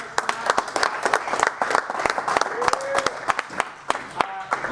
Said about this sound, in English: One more big round of applause for the Butte Copper King.